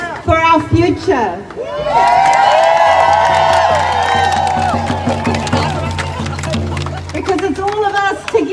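A large crowd at a Freedom Day rally cheers, whoops and claps loudly for several seconds, the roar swelling and holding before fading back, with a speaker's voice heard before and after.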